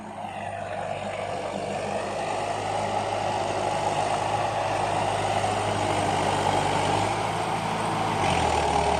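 A D50A diesel tractor engine of about 90 horsepower runs steadily at idle, a loud, continuous low rumble with a slight rise in pitch near the end.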